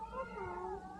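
A cat meows on a steep hill beside a stroller, a single drawn-out, wavering call that is close and clear, with no talk over it.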